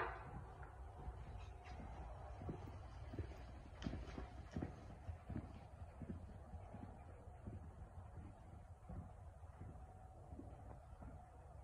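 Horse trotting in an arena during a schooling session, with faint rhythmic hoofbeats steady throughout over low background rumble.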